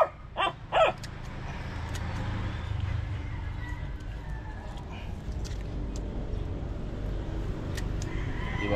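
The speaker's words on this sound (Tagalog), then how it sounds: "Iingay naman itong asong to." A dog barks a few times close by at the start, sharp and loud, then gives way to a steady low background rumble with faint scattered sounds at an outdoor spot by a fish trap harvest.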